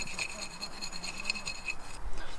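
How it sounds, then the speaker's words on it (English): Fingernails scratching stuck food residue off dishes, a few short rasping scrapes close by, dry and fairly quiet, with no talking over it. "On gratte avec les ongles."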